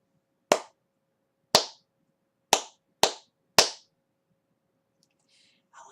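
Five sharp, close hand claps form a short rhythm of quarter and eighth notes. The first two are evenly spaced, then three come quicker, followed by near silence.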